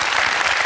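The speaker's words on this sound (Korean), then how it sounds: "박수 한번 주세요" Audience applause at a Korean talk concert, dense and loud continuous clapping from a crowd filling the whole brief moment.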